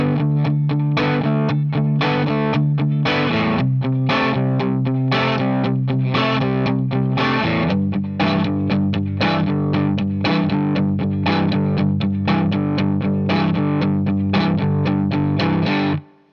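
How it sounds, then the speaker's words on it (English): Distorted electric guitar plays a blues rhythm progression in G, steady chugging chords running loud and unbroken throughout with no voices. "Now the tune kicks off with a blues bass progression."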